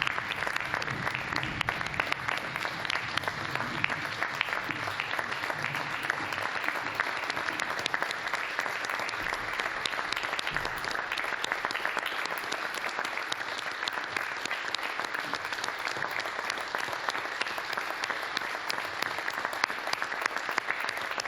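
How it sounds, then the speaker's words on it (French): A standing ovation for retiring mayor Céleste Lett at a council meeting: steady, dense applause from a large crowd, sustained and even for over twenty seconds without a break. "Céleste Lett a tiré sa révérence, saluée par une standing ovation"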